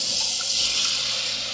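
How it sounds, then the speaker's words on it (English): Half and half is poured into a bubbling roux for baked mac and cheese, giving a steady, close splashing rush of liquid that runs unbroken for a second and a half. "we're going to go ahead and add our half and half."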